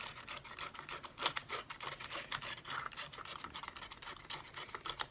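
Steady rapid scrubbing and rasping as rust and crud are cleaned off the stuck brake parts of a Honda CB 750 motorcycle, close and fairly quiet, with a continuous scratchy rhythm throughout.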